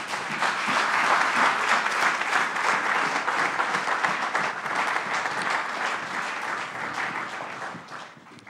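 A church congregation breaks into sustained applause during a French-language worship service, a dense, steady wall of clapping that holds for several seconds before tapering off at the end.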